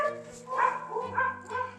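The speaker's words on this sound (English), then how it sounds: "It makes my dogs bark" A dog barks and yips in a few quick bursts nearby, with whiny, excited tones between the barks.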